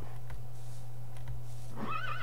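A Minecraft horse whinnies briefly near the end, clear and close, over a steady low electronic hum with a couple of soft thumps earlier.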